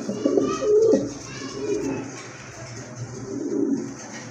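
Pigeons at a breeding farm give soft, throaty coos, a few close rumbling calls repeating over a quiet background with no talk.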